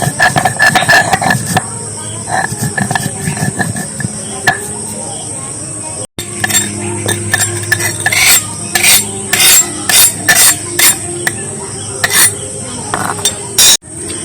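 Garlic is ground into powder with continuous close scraping and grinding, punctuated by repeated sharp clinks and knocks of hard utensils, busy and loud throughout.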